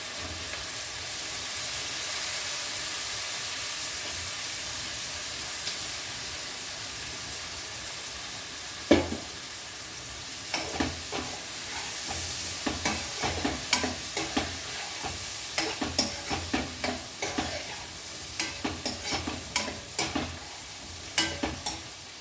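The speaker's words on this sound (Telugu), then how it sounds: "ఇప్పుడు వంకాయ ముక్కలు తాలింపులు వేసేసుకున్నాం" Brinjal pieces fry in a tempering in a pan at close range, a soft steady sizzle that turns into repeated scraping stir strokes over the second half.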